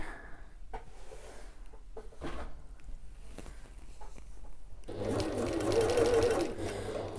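Domestic sewing machine stitching the rectangular seam of an evening bag, a steady close mechanical whirr building over the last couple of seconds after quieter handling noises and faint fabric rustle.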